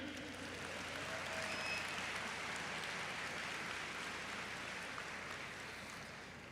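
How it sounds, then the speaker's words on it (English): An indoor audience breaks into steady, sustained applause, a dense wash of clapping that holds evenly for several seconds before tapering slightly at the end. "Let's clap it up for this pioneer."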